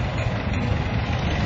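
A 1957 John Deere 520 tractor, 38 horsepower, running at a show, its engine a steady low rumbling drone held close and even throughout, with no talk.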